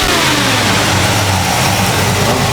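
A 1964 Ford Fairlane with a small-block 302 or 289 V8 revs loudly and close by, the engine rising and falling in steady throttle blips with no voices.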